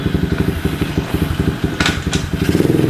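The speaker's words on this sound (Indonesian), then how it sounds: "Kita coba di engkol, karena ini pun menggunakan engkol." A small 110 cc semi-manual mini trail motorcycle with a kick starter and four-speed transmission runs close by, its single engine chugging in a rapid, even putter that swells slightly near the end.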